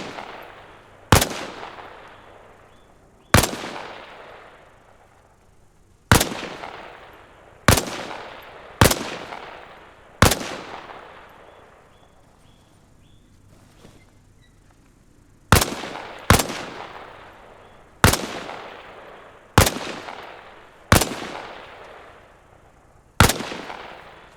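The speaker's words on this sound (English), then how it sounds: "Only this time, fire from a kneeling position." Single rifle shots fired at targets in the Arma Reforger video game, eleven sharp loud cracks in two clusters with a long pause between, each trailing a short echoing decay, no talk.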